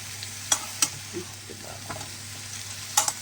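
Poppy-seed curry with drumsticks is stirred in a pan over a low constant sizzle, with a handful of sharp spoon taps against the metal rim, close and isolated.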